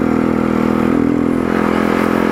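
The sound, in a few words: motorcycle engine climbing mountain road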